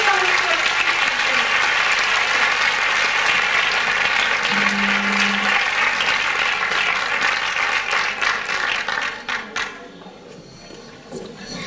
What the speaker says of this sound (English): A big round of applause now for Christian Falsum